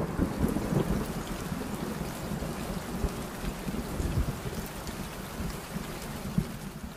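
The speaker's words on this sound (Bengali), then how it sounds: "এমন সময় হঠাৎ করে বৃষ্টি শুরু হয়।" Heavy thunderstorm with pouring rain in an animated Bengali horror story, a dense continuous roar of rainfall with deep rumbling thunder underneath, loud and steady throughout with no voices.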